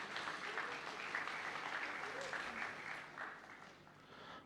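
Audience applause at a graduation ceremony, a steady sustained clapping from a large crowd that holds at a fairly even level and fades slightly toward the end, with faint voices beneath.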